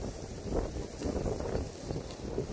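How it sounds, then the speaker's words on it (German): Gusty outdoor wind buffets the microphone, rising and falling in loud low rushes over a few seconds, with no talk. "Ist ein bisschen windig."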